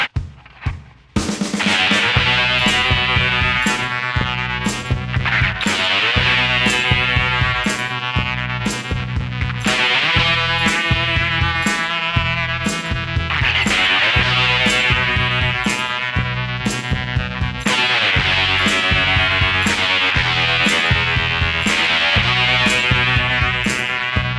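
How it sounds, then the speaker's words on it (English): A fuzz-distorted electric guitar plays a repeating riff with punchy, rhythmic chords, loud and continuous throughout. "That's the fuzz guitar."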